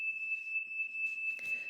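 Smoke alarm sounding indoors, a steady piercing tone held throughout, faint and somewhat distant, with a brief rustle near the end.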